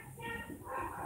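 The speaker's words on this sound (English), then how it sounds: "Dogs are not even getting along no more, guys." Dogs barking and scuffling in a brief, close burst of overlapping yips and whimpers, sounding agitated.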